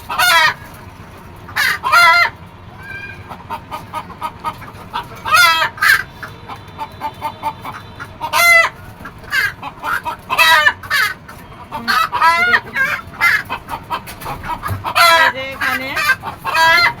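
Chickens on a rooftop farm cluck loudly and close by, breaking into repeated crowing calls in bursts across the stretch with short quieter gaps between them.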